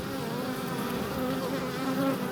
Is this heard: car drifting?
no